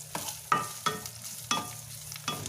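Chopped coconut and cumin sizzling in hot oil in a pan while being stirred for a beef curry, with a steady crackle broken by five or six sharp scraping clicks of the spoon, close up and without talk.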